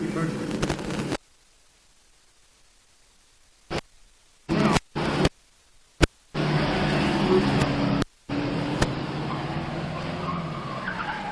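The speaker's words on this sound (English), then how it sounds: "It's a demo of emergency of U-turn." A military vehicle in a special-driving emergency U-turn demonstration during a China-India joint counter-terrorism exercise, heard as loud bursts of engine and broadband tire noise, broken by abrupt silences, with voices talking at times.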